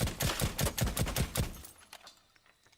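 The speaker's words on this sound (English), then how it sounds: "here is the suppressed SEIGE, or SEIGE 12 shotgun, with the wall damage" A suppressed SEIGE 12 shotgun in Rainbow Six Siege fires a rapid string of about eight muffled thuds into a wall, then stops, leaving a few faint debris clicks and a quiet tail.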